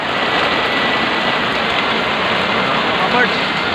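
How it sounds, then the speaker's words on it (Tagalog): A loud, continuous downpour of heavy rain outside a shop at night hisses steadily throughout, with no other clear sounds standing out. "Palakas ng ulan oh."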